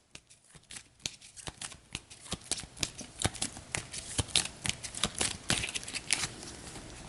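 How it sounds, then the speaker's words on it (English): Eldritch Horror board game mystery cards being shuffled by hand, a rapid series of crisp riffling flutters and taps, close and fairly quiet, with no talking. "So we'll give our mysteries a shuffle."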